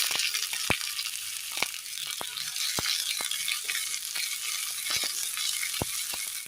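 Shallots frying in hot oil in a pan, giving a steady loud sizzle with scattered sharp pops and spits, close up and with no talking.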